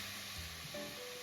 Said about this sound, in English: you add the chicken breast and let it simmer with the onions for about 5 to 10 minutes.